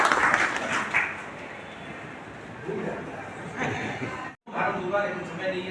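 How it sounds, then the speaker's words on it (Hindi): An audience at a talk on teaching claps in a dense, continuous wash of applause that swells and fades, briefly cutting out near the end, with a speaking voice over parts of it. "ताली तो बनती"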